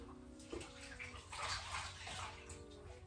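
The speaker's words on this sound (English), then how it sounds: "I'm literally like dipping it in and out the bowl right here. I'm over here just washing this wig." A wig dipped in and out of a bowl of water gives soft, faint sloshing and trickling, steady and close with no talk.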